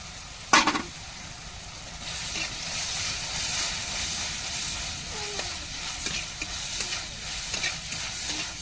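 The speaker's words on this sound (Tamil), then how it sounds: "நல்லா இஞ்சி பூண்டு பச்சை வாடை போகிறதுக்கு நல்லா வதக்கி விட்டுக்கிருவோம்" Ginger garlic paste sautés in a pan while cooking macaroni, giving a steady close sizzle with a sharp clank near the start and light stirring scrapes throughout.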